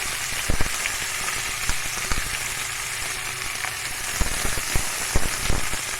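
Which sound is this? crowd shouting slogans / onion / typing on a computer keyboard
onion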